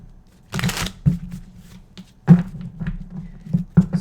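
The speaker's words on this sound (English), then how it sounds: "2 more shuffles here, everybody, before we do this good old pick a card" A deck of tarot cards is shuffled close by in several quick riffling bursts, each followed by soft taps and thuds as the cards are squared on a table.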